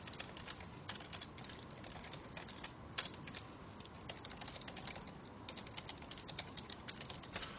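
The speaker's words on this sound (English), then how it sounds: "Sorry if you heard me typing." Rapid, uneven clicking of fingers on a computer keyboard, with bursts of keystrokes and brief pauses, heard close and faint with no talk.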